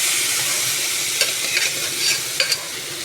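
Boiled turnip is stirred into onions sautéing in a pan for a South Indian poriyal, with a constant close sizzle and a few soft scraping stirs.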